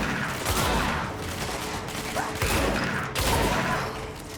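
Heavy shotgun-like blasts from a weapon in the action video game Control, several loud, close booming shots spaced a second or so apart over a continuous noisy background.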